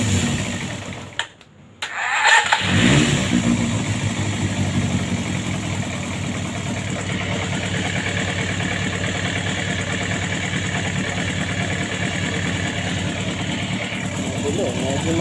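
A Suzuki Bandit 250 motorcycle with carburetor trouble idles steadily nearby after a brief blip at the start, its engine running as a continuous mid-pitched drone while someone talks over it.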